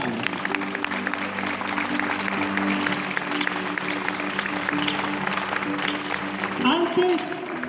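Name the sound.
church congregation applause to God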